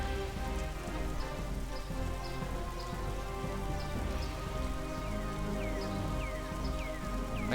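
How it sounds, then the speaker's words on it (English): Rain from the D&D Encounter+ tabletop software falls in a steady, even patter of drops on a surface. It continues alone for several seconds at a moderate level. "I can make it rain."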